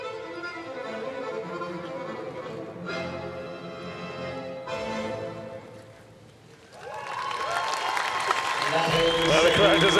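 A crowd at a Paralympic dressage event breaks into applause despite being asked to keep quiet, the clapping swelling from near silence into a loud, dense wash of many hands alongside a commentator's voice.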